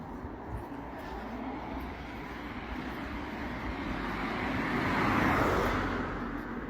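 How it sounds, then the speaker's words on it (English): A car comes down a hill on a rural road near Alnwick, Northumberland, its steady engine and tyre roar swelling as it nears and passes close by, then fading, with no talk over it. "There's a car coming down the hill"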